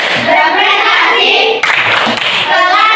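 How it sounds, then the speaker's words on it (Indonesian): An elementary class of children claps hands together in a classroom, a loud, dense and continuous burst of applause with a brief dip partway through. "Tepuk tangan untuk kita semuanya."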